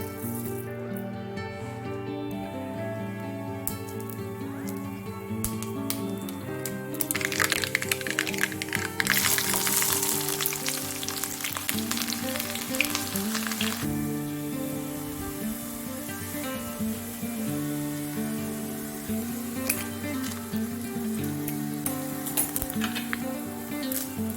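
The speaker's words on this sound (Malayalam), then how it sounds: "ഓരോന്നായിട്ട് നമ്മൾ കടുക് പൊട്ടിക്കുക." Mustard seeds pop and sizzle in a hot pan as tempering for Kerala parippu erisseri dal curry, a dense, steady crackle that swells louder partway through over a continuous tonal background.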